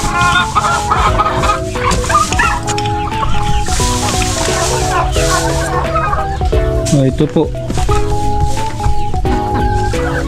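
Chickens cluck continuously in a coop shared with ducks, busy overlapping calls close by, with a person briefly speaking over them.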